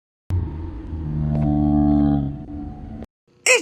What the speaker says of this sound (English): It's Jumbo Josh